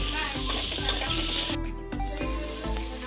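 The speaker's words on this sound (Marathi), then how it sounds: "त्यामध्ये आता मोडालेली मटकी टाकून पुन्हा एकदा ते सर्व मिश्रण परतून घ्यायचं" Sprouted moth beans sauté in a spice mixture for misal, giving a soft, continuous sizzle that sits beneath louder rhythmic background music.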